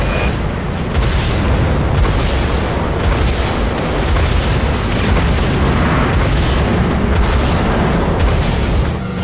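In the video game Dreadnought, missiles launch with a dense, loud, continuous roar and rumbling booms that fill the space with no break.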